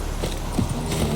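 Hooves of Roach, a horse in The Witcher 3, clip-clop in a steady trot at close range, with low ambient hum beneath and no talk.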